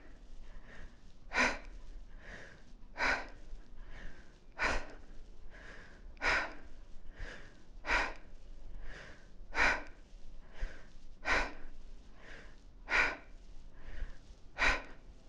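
Heavy, rhythmic breathing during a kettlebell workout, sharp forceful exhales roughly every second and a half, close and alone, paced like repeated exertion.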